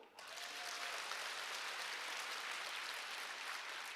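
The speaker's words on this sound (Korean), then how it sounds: "박수." An audience claps at a business success seminar, the applause swelling in quickly after a brief pause and holding as an even, dense wash of clapping to the end.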